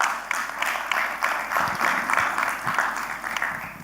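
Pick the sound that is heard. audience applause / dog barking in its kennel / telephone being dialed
audience applause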